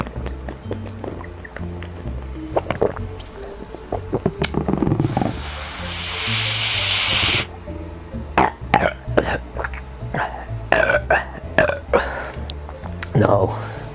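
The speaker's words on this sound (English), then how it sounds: "I expected to get like a big, big funny burp, but I can only get the small ones out." Small burps after inhaling helium come as a series of short, sharp bursts scattered across the stretch, close and fairly loud, with a brief hiss of gas partway through and breathy noises between them.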